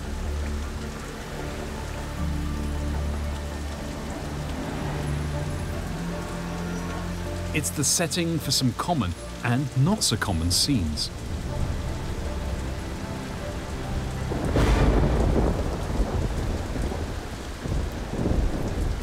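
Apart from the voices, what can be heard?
heavy monsoon rain and wind in Singapore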